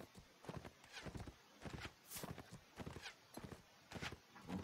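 Hooves of horses in the Mount&Blade Warband game pound out a rapid, rhythmic clip-clop in repeated bursts, fairly faint and close.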